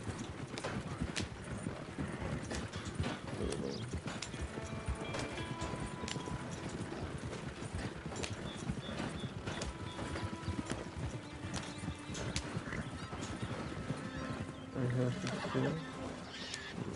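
Rapid hoofbeats clip-clop continuously from a galloping horse in Red Dead Redemption 2, with an occasional whinny and soft ambient background.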